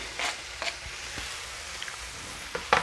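Capsicum frying in a pan gives a soft, continuous sizzle, broken by several brief stirring scrapes and clicks, close and fairly quiet.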